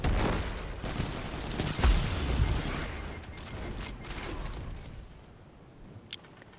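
Rapid bursts of gunfire fill a video game firefight, with dense overlapping shots and a heavy thump partway through, then the volley thins out into scattered reports and one sharp crack near the end.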